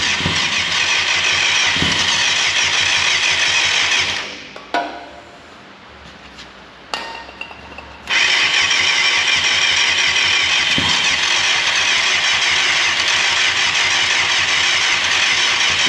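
A 1989 Yamaha FZR600 Genesis motorcycle on a weak battery, with a loud, steady engine drone near and alone that drops out briefly into a sluggish lull before roaring back.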